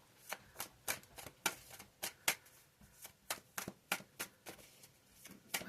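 Tarot cards being shuffled and laid out by hand, a quick series of crisp, close card flicks and slaps repeating in an uneven rhythm in a quiet setting.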